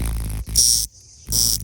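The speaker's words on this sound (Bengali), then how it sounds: "দেখুন, এটার আওয়াজটা তো শোনা যাচ্ছে।" A cricket caught in a village, held close, gives two loud buzzing trills separated by a brief pause.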